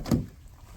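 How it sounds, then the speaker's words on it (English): A frozen door on a 2023 Acura Integra is pulled open in snowy winter weather, giving one short thud-like release near the start, followed by quiet background rumble. "Let's see how easy it is to open the frozen door."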